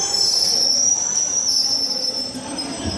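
Loud, steady high-pitched squeal of train wheels grinding on rails at a railway station, sustained throughout without talk.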